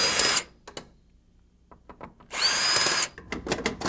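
A power drill backs a bolt and screws out of an ATV radiator cowling, two loud whirring bursts separated by quiet clicks and short taps of tools, close up.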